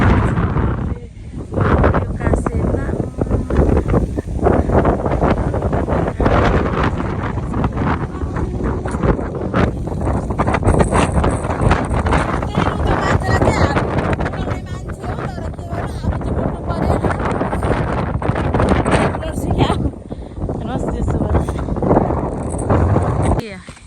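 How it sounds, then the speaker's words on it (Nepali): Strong wind roars steadily against the microphone, a dense buffeting rush that never lets up, with voices partly buried beneath it. "कस्तो हावा चलिरहेको"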